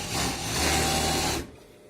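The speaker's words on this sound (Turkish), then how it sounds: "Şu yanları makinede dikişi tabii, singer, singer dikişini mutlaka çekeceğiz." Overlock sewing machine stitching the side seams of a dress, a close, loud, dense whirring rattle that runs steadily and then stops abruptly near the end.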